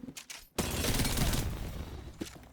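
Sustained burst of rapid gunfire in Apex Legends, loud and close, following a few brief clicks and lasting about two seconds before tailing off into softer game noise.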